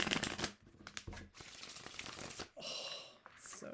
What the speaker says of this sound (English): let's do one more riffle